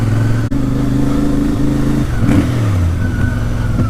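A motorcycle with stock exhaust pipes revs steadily during a ride in the rain in December, with a deep, continuous engine drone that rises and falls for several seconds. No one speaks.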